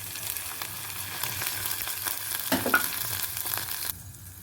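Onions frying in a pan give a steady, close sizzle with brief stirring scrapes; toward the end the sizzle drops away to near quiet.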